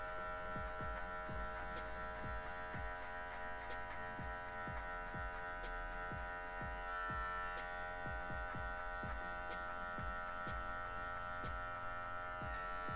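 Electric hair clipper buzzing steadily and close as it moves through hair in a fade pass, a constant motor hum broken by repeated short scraping strokes at a fairly even rhythm, with no talking.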